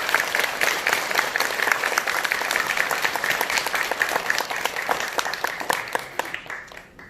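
Applause from a congregation at a Buddhist temple service celebrating Buddha's Birthday, with dense, steady clapping that fades slightly toward the end.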